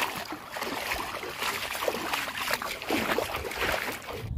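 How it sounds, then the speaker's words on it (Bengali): Floodwater current rushing past banana trees in a flooded village, a steady broadband wash of moving water with faint splashing, fairly close and continuous, with no talk. "এই যে বোঝা যাচ্ছে কলা গাছ থেকে ওই পাশে পানির স্রোতটা এদিক দিয়ে আসতেছে"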